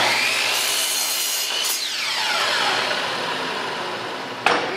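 Chop saw cutting a wooden board, a loud steady whining buzz of the blade through the wood that holds for several seconds, with a brief sharp clack near the end; close and no voices.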